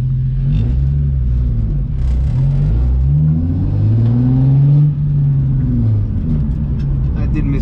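A car engine rumbles steadily and revs up and down, its pitch rising and falling, loud and close throughout.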